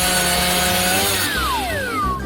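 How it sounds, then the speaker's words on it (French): A saw cutting through waffles in a kitchen, giving steady, close rasping strokes with whining scraping tones that sweep downward near the end, with no talking. "je vais prendre la scie."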